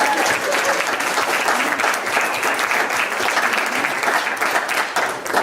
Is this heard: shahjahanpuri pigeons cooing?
no